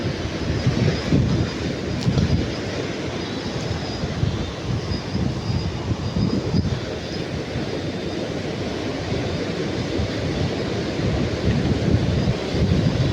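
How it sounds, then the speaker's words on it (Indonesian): Strong wind roars over big waves at sea, a dense, continuous broadband rumble with surging gusts and crashing water, steady and loud throughout without talk. "Angin kencang bosku."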